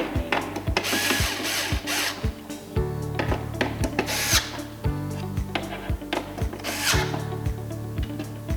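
Screws being driven to tighten the back plate of a mobile iPad photo booth: regular rapid clicks of a screwdriver or driver, with low whirring runs and short pauses, close and moderately loud, with no talking.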